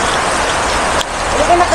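Heavy rain pours in a loud, dense, continuous hiss for a couple of seconds with no break.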